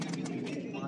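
A golden pigeon coos softly in a short, low burbling phrase, close by, with a voice talking over it.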